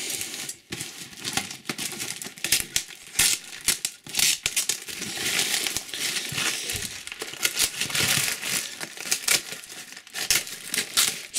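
A cardboard mail parcel of football cards being opened up close, with loud crinkling, tearing and scraping of packing material in irregular bursts and no talking.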